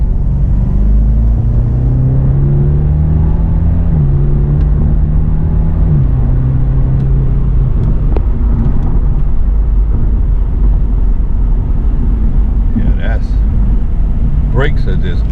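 A BMW 650i Gran Coupe with a turbo engine accelerates hard, its deep engine note rising and shifting through gears under loud road and wind rumble heard from inside the car.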